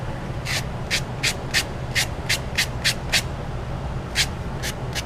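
Repeated sanding strokes from a handheld sanding brick, about a dozen short rasping scrapes in an uneven rhythm, close and fairly loud over a low background hum.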